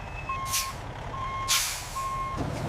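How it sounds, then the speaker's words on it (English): A truck backs slowly into a loading dock, its reversing alarm sounding steady evenly spaced beeps while loud hissing air brake bursts cut in over a rumbling engine, nearby, with no talk. "Keep it coming slowly, easy on the brakes now, and hold it right there."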